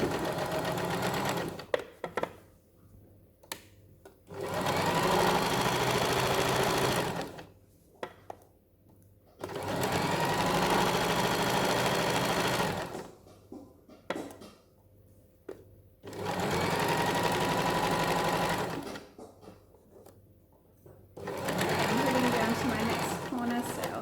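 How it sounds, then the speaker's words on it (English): A sewing machine stitches a fabric cushion in sustained bursts of several seconds each, separated by short pauses, and a person talks during the gaps. "Put your presser foot back down and you can keep sewing."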